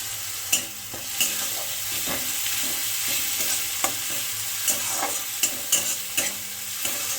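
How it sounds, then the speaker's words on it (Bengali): Coconut, poppy and mustard paste with raw prawns fries over low flame in a wok, with a steady sizzle broken by repeated scraping stirs of a spatula. "তাই জন্য মশলাটা কিন্তু ভাজা ভাজা হয়ে গেছে"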